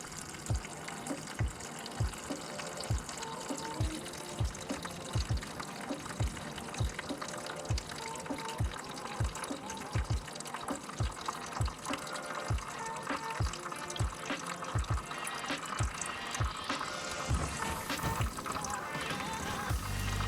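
Engine coolant drains from an EF sedan's B20B radiator plug into a catch pan, a steady liquid stream and splatter running throughout with a repeated low knocking in the background.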